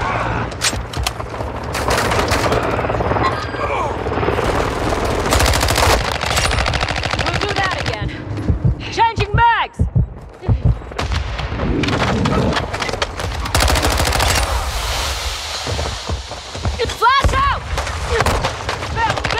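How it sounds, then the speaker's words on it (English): Rapid machine-gun bursts and scattered gunshots during a hardpoint multiplayer match in Call of Duty: Modern Warfare II, loud and dense fire with short pauses and some background game voices. "Taking effective fire!"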